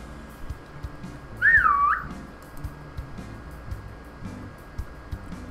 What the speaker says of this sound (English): that's how I imagined him whistling